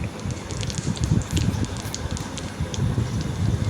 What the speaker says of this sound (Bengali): তেল গরম হয়ে গেলে দিয়ে দিচ্ছি পাঁচ ফোড়ন